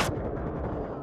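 One sharp gunshot blast from the VR shooter game Onward, close and loud, followed by a short dull rumbling tail.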